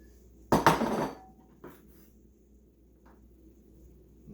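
Cut cucumber pieces drop into a bowl for a cucumber and tomato salad, a clattering tumble of soft thuds and a clink close by, then a couple of faint taps, with quiet room tone around them.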